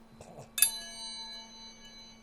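A single sharp strike on a drilled hard drive platter rings out like a chime, its bright overtones sustaining and slowly fading for over a second after an earlier soft tap.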